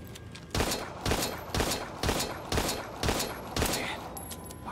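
Gunfire from a weapon in the survival horror video game Daymare 1998: seven loud, evenly spaced shots about half a second apart, each a sharp close blast over a steady low background, with no talk.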